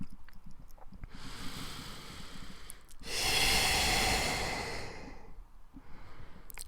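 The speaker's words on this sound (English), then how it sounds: "Let me take a breath." A single deep breath drawn in and then let out in a long, close exhale, with a quieter breath noise just before it and no talk over it.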